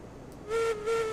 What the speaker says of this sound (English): I'm blowing the whistle.